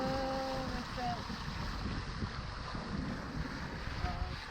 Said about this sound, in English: Okay, well, the wind filled in.